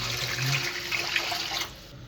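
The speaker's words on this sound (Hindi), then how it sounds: "सबसे पहले हम इसमें पानी शामिल करेंगे।" Water runs steadily into a large cooking pot for chicken vegetable soup, a continuous close splashing rush that stops abruptly near the end.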